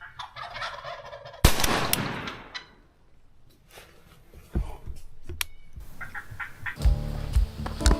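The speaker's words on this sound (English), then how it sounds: "Beautiful bird. That's a beautiful turkey." A wild turkey gobbles in bursts, close and loud, during a spring turkey hunt, with a sharp bang and a few knocks and rustles between the calls.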